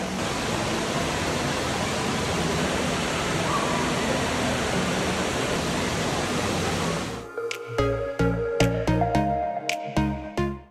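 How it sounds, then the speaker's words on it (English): Indoor water feature fountain in the Dubai Mall, a loud steady rush of falling water for about seven seconds that abruptly cuts to a tonal, rhythmic music passage. "What an amazing water feature."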